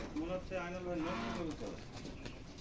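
Several pigeons at a loft of colour-matched racing pigeons coo in repeated soft, throaty phrases, close by and continuous, with a faint voice underneath.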